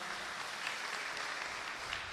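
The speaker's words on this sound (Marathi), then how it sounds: "जोरदार टाळ्या एकदा." Audience applause at a kirtan event during a Chaturmasya Vrata gathering, a steady dense clapping that fills the whole moment at an even level.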